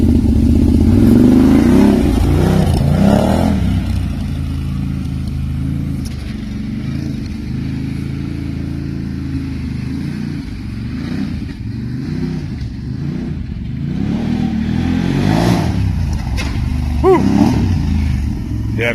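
A Can-Am Maverick Sport XMR side-by-side revs its engine loud and close, the throaty note rising and falling in bursts as it works over jumps, with people talking over it.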